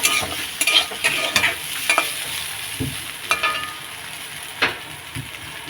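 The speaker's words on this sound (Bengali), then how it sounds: "এই যে ঢেঁড়স আলু ভাজা হচ্ছে" Okra and potato frying in a pan, a steady sizzle broken by repeated scraping stir strokes close by, with no talking.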